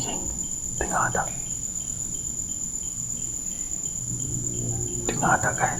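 Crickets chirp steadily at night outside an abandoned bungalow, a continuous high-pitched trill that fills the whole stretch, with brief low voices murmuring nearby at the start and end.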